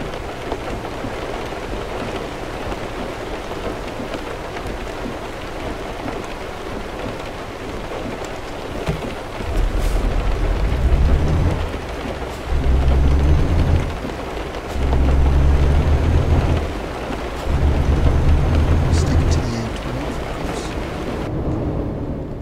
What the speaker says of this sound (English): Hopefully this storm isn't covering the entirety of London when we get out of this.